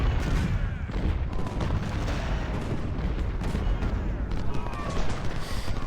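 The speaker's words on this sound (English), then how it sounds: "There's some artillery coming in there." Continuous artillery fire in Ultimate General: Civil War at the Battle of Fredericksburg, dense overlapping cannon booms and crackling musketry rolling steadily at high volume.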